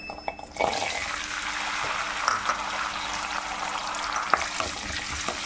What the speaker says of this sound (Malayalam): ചെറിയ ഉള്ളി ഈ എണ്ണയിലേക്ക് നമുക്ക് ഇട്ട് കൊടുക്കാം